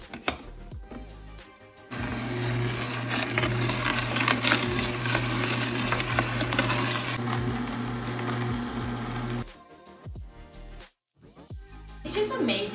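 Whole carrots fed into a powerful juicer: a loud, steady mechanical whir and grinding hum lasting several seconds, then stopping, with brief clatter and handling noises before and after.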